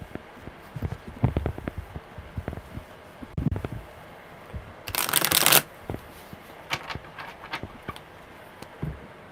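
Tarot cards being shuffled by hand, a series of soft close taps and riffles leading up to one loud, dense riffle burst in the middle, then more light card handling, no voices.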